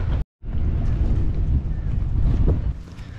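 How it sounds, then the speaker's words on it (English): Strong wind roars steadily around a sailboat anchored at Sandy Cove, a loud continuous rush buffeting the microphone, broken only by a brief dropout near the start. "It is quite blowy."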